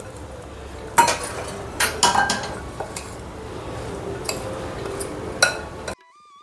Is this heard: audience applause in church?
no